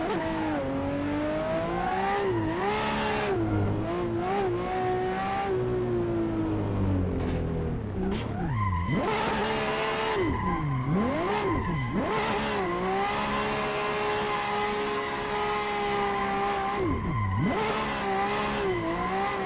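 A drift car in the Assetto Corsa racing game revs loudly and continuously. The engine pitch swoops up and down with throttle changes, and tire squeal is mixed in as the car holds its slide.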